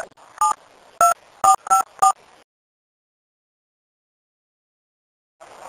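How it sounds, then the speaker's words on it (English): Telephone keypad tones on a prison phone line: five short, clear dial beeps in quick, uneven succession, then silence, with a faint noise returning at the very end. "dial 0 plus the area code and enter your 6-digit inmate ID."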